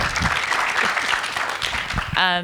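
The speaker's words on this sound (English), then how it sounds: "So round of applause for Alyssa as well" Audience applause at a board game festival pitch event, a dense wash of clapping from a moderate crowd that stops abruptly as a voice begins near the end.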